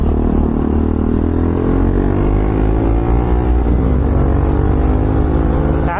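A motorcycle engine runs loudly and steadily throughout, revving and accelerating close by as a group ride gets underway, with a low rumbling drone and no speech.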